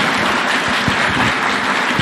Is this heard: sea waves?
no